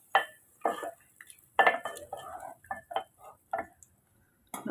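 A utensil scrapes and clinks against a metal pot of curry in irregular bursts while it is stirred, close and fairly loud.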